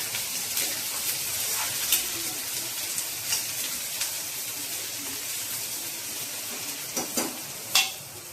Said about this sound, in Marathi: ही भाजी आपण चांगली कांदा परतून घेऊया.